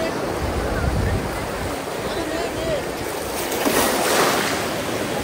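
Sea waves breaking on the beach at Puri roll in as a steady broadband wash with wind noise, continuous across the clip with a swell of surf near the end; voices of beachgoers are faintly mixed in.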